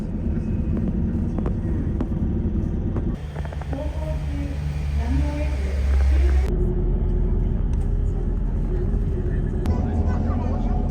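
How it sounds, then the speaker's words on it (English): Interior of an airport shuttle bus driving between Haneda Airport's Terminal 2 and Terminal 3, a steady loud engine and road rumble filling the cabin, with a brief shift in tone partway through. "Now I'm inside the bus, and from window you will see the many beautiful aircrafts of different airlines while you are traveling from Terminal 2"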